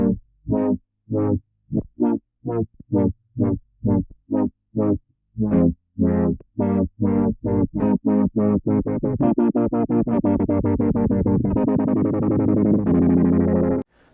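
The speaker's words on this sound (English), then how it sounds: "Let's start off with the first effect, stutter." A stutter effect from the EastWest LO-FI plugin chops a musical phrase into rapid, evenly spaced repeated fragments that speed up into a dense buzzing blur, close and loud, with no voices.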